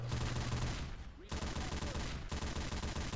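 Mounted guns in the video game Left 4 Dead 2 fire in dense bursts, a continuous rattling barrage with brief breaks, fairly quiet and mixed with game noise.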